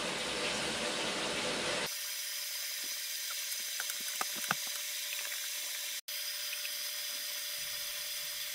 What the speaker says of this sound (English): my washer machine is not that loud and doesn't make those weird sounds. You hearing these sounds because I multiply the speed of the video by 10